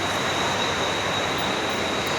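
A train rumbles at a railway station as a steady, broadband roar with a faint high whine, continuous and fairly loud without any pause.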